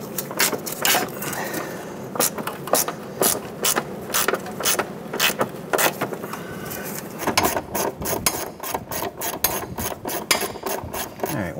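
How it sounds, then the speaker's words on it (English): A hand ratchet loosens the upper control arm bolts on a 2008-2012 Honda Accord, its pawl clicking in rapid, steady runs of sharp ticks that repeat close up, broken only by brief pauses between strokes. "We're going to loosen and remove our two upper control arm bolts here."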